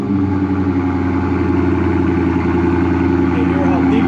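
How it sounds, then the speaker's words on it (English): A 2021 Dodge Charger Hellcat with an aftermarket exhaust idles close by, a steady deep, loud engine rumble with even low pulsing, while a person talks over it. "You can hear that bad boy."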